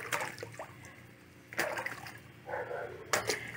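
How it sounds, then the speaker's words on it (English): Water runs and splashes into a crayfish tank in bursts, a quiet trickle broken by a few brighter splashy surges, close by, with no speech. "And I need to start the water into this first tank here."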